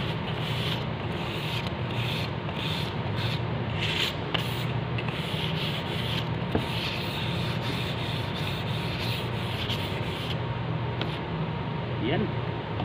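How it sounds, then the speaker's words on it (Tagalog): Hand sanding wood to take off raised fuzz before a dark mahogany stain, a continuous close rubbing scratch with rhythmic strokes, a voice speaking over it at times. "Lihain muna natin para matanggal yung himulmul."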